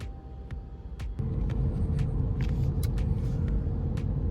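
A car travelling along a road, heard from inside as a steady low engine and road rumble that grows noticeably louder and fuller partway through and then holds constant, with no talking.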